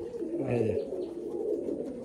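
A pigeon in a loft gives a soft, low cooing call, fairly faint and close, alongside someone speaking.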